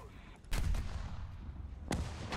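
Tank gunfire in the video game War Thunder, two sharp loud blasts about 1.4 seconds apart with a rumbling tail between them, no talking over them.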